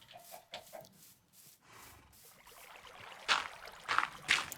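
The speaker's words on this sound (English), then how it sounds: "save the chicken here." Chicken clucking in Minecraft with the ATM9 modpack, several short clucks growing louder toward the end over splashing, watery game ambience.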